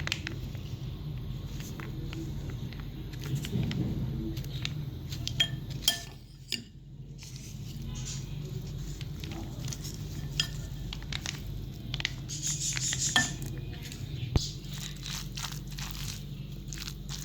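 A spoon stirs and mixes a veg mayonnaise sandwich filling in a bowl, giving soft crunchy scrapes and clinks of utensil against dish that come in uneven bursts at close range.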